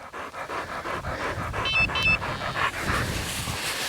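Hunting dog panting heavily after retrieving a wild pheasant: fast, rhythmic, close breaths, loud and steady, with a few faint whines in the middle.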